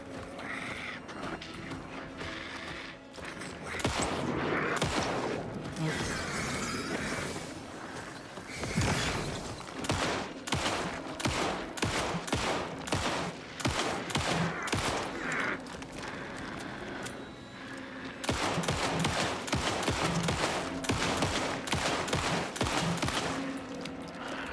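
Rapid gunfire in the survival horror game Alan Wake 2, sustained bursts of sharp repeated shots in long clusters with brief pauses between, loud and close, with no one speaking.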